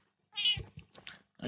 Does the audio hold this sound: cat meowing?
yes